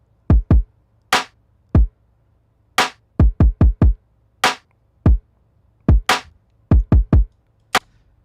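Punchy electronic drum hits in Serato Studio pattern along in an irregular groove, deep thumping kicks mixed with sharp bright snaps, loud and dry, nothing else playing.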